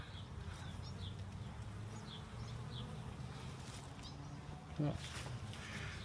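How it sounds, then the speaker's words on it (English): Honey bees buzzing around winter hives on a warm day, a steady faint drone with a few brief higher insect passes and a short knock near the end, under low outdoor background. "I'm looking at a bunch of these bees"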